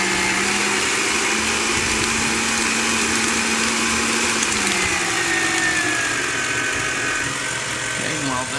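An electric mixer whips cream cheese, a steady high motor whine running continuously and close, with a voice talking over it.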